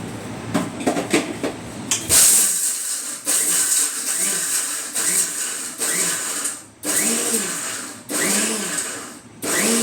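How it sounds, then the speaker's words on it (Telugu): A mixer grinder pulverises seeds into powder in repeated loud whirring bursts, each revving up and cutting off, with brief rattling pauses between pulses after a few opening knocks. "ఇప్పుడు నేను ఇది మిక్సీ కొట్టి చూపిస్తానండి పొడి"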